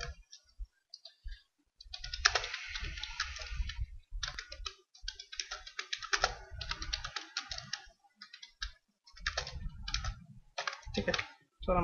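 Fingers tap out JavaScript code on a computer keyboard in rapid, uneven bursts of close, crisp key clicks, with short pauses between runs of typing.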